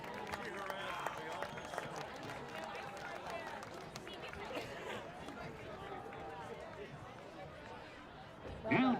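Crowd at a high school football game cheering and applauding for the seniors, a steady wash of distant clapping and hubbub under an announcer's voice, with a louder burst at the end.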